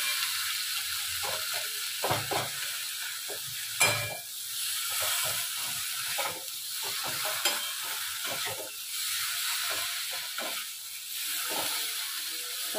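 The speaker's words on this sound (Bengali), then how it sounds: "এরপর মশলার মধ্যে আমি দিয়ে দিলাম ঢেঁড়সটা। তাহলে মশলার সঙ্গে ভাজাও হবে" Okra fries in a spice paste in a pan, a steady close sizzle broken by repeated scraping stir strokes, with no talk over it.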